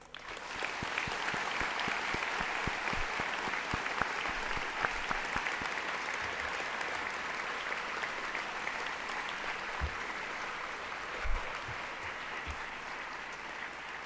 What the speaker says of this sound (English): I invite you now to join me in a round of applause to express our heartfelt gratitude to